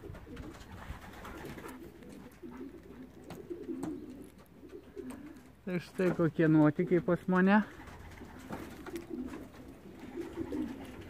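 Racing pigeons coo in a loud, close burst of throaty calls midway, while someone talks quietly before and after, following a hawk attack.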